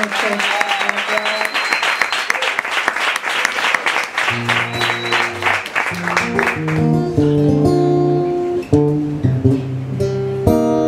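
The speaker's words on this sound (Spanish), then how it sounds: "pido un aplauso" An audience at a live comedy show breaks into loud, sustained clapping that fades after several seconds as a bright musical backing rises and carries on alone.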